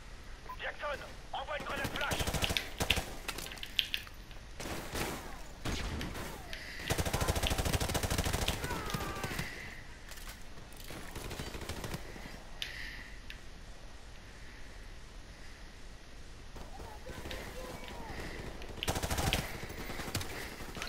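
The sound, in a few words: gunfire from the video game Call of Duty Modern Warfare Remastered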